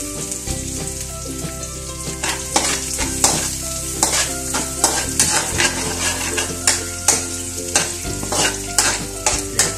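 Garlic and onion stirred together in a pan at a backyard Filipino cook, with a steady close sizzle of frying under repeated scraping strokes of a utensil against the pan.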